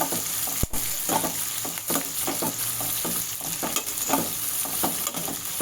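Onions and curry leaves sizzle in a hot pan for a mango rice dish. Rhythmic scraping stirs of a spoon repeat over the continuous frying hiss, close and clear.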